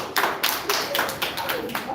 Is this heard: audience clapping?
yes